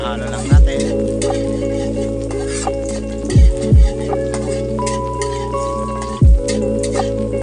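Soy beans and snow cabbage are stirred and fried in a pan, with steady sizzling under three heavy scraping thumps as the spatula drags across the metal, loud and close.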